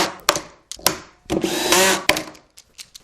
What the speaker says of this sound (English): I'll go ahead and screw both of these in as well